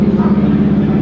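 A loud car roars close by at a convention, a heavy low rumble with a steady throbbing engine tone that fills the moment and interrupts an interview.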